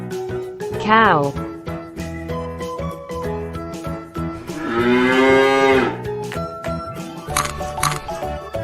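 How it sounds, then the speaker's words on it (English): A cartoon cow moos loudly in a long, drawn-out low call mid-clip, with a shorter rising animal cry earlier and bright jingling music throughout a children's cartoon. "cow"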